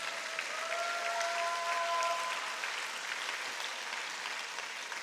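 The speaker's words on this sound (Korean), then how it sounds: "박수와 기도를 올려드리면 좋겠습니다." A church congregation gathered for a Friday all-night Korean prayer service applauds steadily, a dense wash of clapping that holds for about five seconds with a faint sustained tone beneath it, then thins slightly toward the end.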